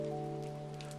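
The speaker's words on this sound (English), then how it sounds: "Outside, the rain still whispered against the windows, just as it had before the story began." Rain against windows, a soft, faint, continuous patter blended with a steady low hum.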